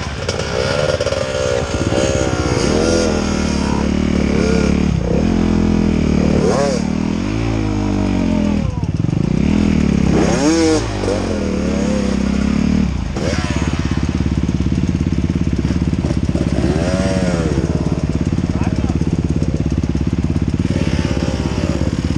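A motorcycle rides along an outdoor path, its engine revving up and down repeatedly with rising and falling pitch, loud and close throughout, while people talk over it.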